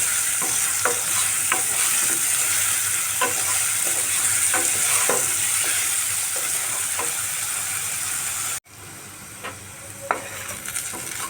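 Potatoes with salt and turmeric fry in oil in a wok, producing a loud continuous sizzle up close, with periodic spatula scrapes and a short drop in level near the end.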